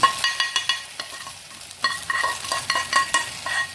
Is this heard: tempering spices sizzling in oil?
yes